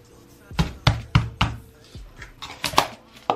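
A plastic fork scoops body scrub from a container, producing a series of sharp, close taps and knocks in an uneven rhythm, with quieter scraping between them.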